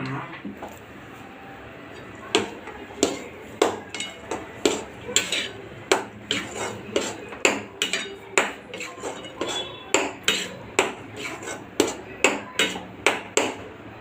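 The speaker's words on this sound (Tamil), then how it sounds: "போட்டுட்டு இதை வதக்கிட்டு இருக்கணும்." Ground masala paste is sautéed in a cooking pan, with a spoon striking the pan in a steady rhythm of sharp knocks under a low background hiss.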